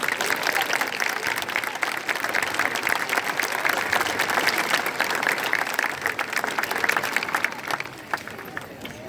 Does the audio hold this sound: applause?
yes